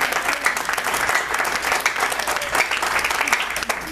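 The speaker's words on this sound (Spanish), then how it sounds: "Denle un fuerte aplauso al Señor" A church congregation breaks into strong, sustained applause for the Lord, a steady wash of many hands clapping at once that fills the room without pause.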